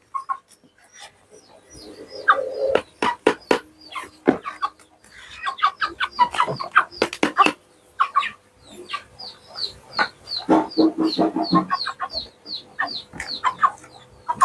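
Chickens cluck in a busy, uneven chorus on a small farm, with rooster-like calls and sharp bird chirps mixed in; the sounds come in bursts close to the microphone.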